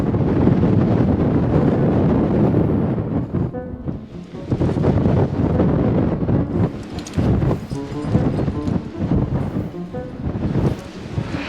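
Strong wind buffeting a microphone on a mountain summit in Patagonia, a loud, rough roar that rises and falls in gusts, briefly easing before surging again, with faint voices beneath.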